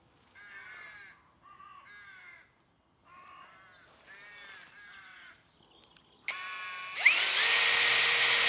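A power drill drives screws, starting with a steady high whine and then bearing down into a louder, harsher grind that continues to the end. Earlier, a crow caws several times in separate rasping calls.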